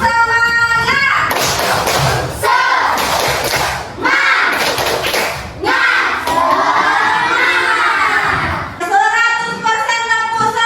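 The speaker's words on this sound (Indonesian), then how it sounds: "Tepuk semangat!" A fourth-grade class does a spirited clapping cheer led by their teacher: a loud, rhythmic group shout of children's voices punctuated by thumps and claps, with an adult voice at the start and end.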